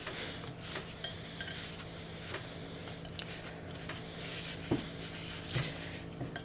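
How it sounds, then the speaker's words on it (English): Carrot flax cracker mixture stirred in a bowl, soft irregular scraping and light utensil clinks, close and moderately quiet, with no voices. "I'm just going to mix it around."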